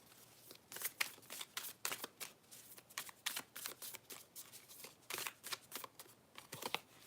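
Tarot cards being drawn and handled from a deck, with repeated close, crisp papery flicks and slides in an irregular rhythm, with no one talking.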